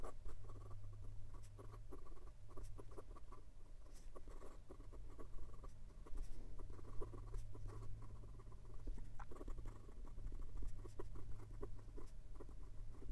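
A stiff-nibbed fountain pen writes on thin Tomoe River paper, giving a continuous close scratchy patter of quick nib strokes and taps over a low steady hum.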